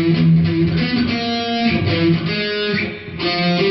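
Guitar playing the second phrase of a riff on the 5th string, a quick run of distorted, chugging notes with a held tone near the end, close and loud with no talking.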